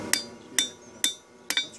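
A hammer strikes hot steel while forging a fire steel, four sharp ringing metallic blows spaced roughly half a second apart, close and clear with no talk.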